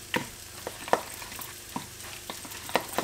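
Semi-thick cream stirred into a cooking mixture in a pan: a spoon clinks and scrapes at irregular intervals over a soft, steady sizzle, close and moderately loud.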